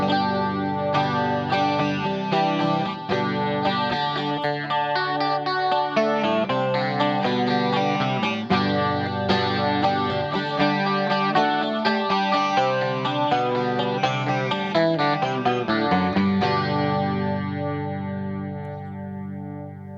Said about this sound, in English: it's what they call lush chorus. So it's a chorus and reverb